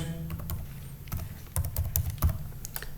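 Quick bursts of key clicks from a computer keyboard while text is entered in MS Word, close and moderately loud, with uneven rhythm and short pauses between strokes.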